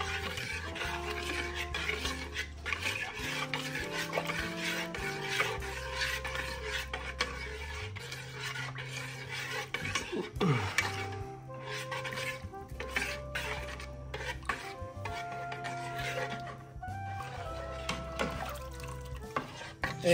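Glutinous rice dissolving in water is stirred in a pot while making kimchi, producing repeated scraping and clinking of a utensil against the pot in an uneven rhythm, close and moderately loud, with no talking.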